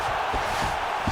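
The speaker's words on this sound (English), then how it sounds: "crowd just loving it" Arena crowd cheering at a UFC bout in EA Sports UFC 5, a dense, steady roar of many voices held for the whole short moment.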